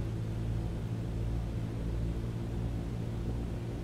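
Aircraft engine run-up with brakes held in Microsoft Flight Simulator 2020, a steady, low droning hum with a constant rumbling tone, fairly quiet and unchanging throughout, with no voices.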